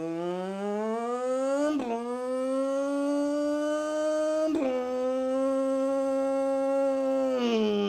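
A voice imitates a Formula 1 car, a sustained tonal whine rising and falling in pitch in several long passes, each shifting like a gear change, loud and close.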